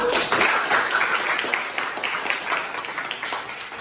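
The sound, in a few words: applause from classmates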